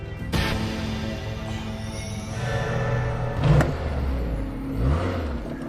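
A driving-school car rolling up and coming to a stop, its engine humming steadily at moderate distance with a couple of brief bumps and thuds as it slows and halts.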